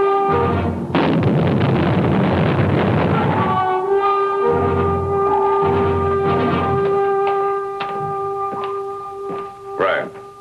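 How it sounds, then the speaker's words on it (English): A missile explosion destroys an undersea lab, heard as a loud rumbling blast and roar that then gives way to long tonal horn-like drones and scattered thuds. "Brace yourself for explosion."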